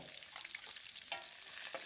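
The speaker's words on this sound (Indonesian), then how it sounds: "Minyak udah panas, kemudian saya masukkan bawang merah putih yang udah dicincang kecil" Finely chopped shallots and garlic sizzle in hot oil while being stirred, a soft, steady frying hiss with a few brief scraping stirs.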